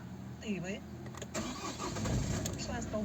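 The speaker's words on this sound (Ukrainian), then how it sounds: "Без проблем машинка завелась." A 2012 Opel Zafira 1.7 diesel cranks and fires up, settling into a clattering idle close to the microphone, while someone talks over it.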